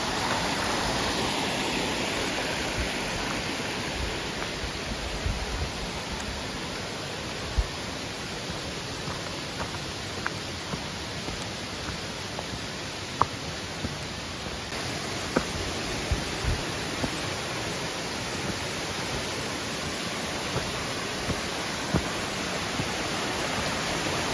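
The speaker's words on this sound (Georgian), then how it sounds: "მოვედით ჩანჩქერთან" A waterfall at the Mitarbi river source near the village of Didi Mitarbi pours in a steady, dense roar, close and continuous, with occasional faint clicks and no voices.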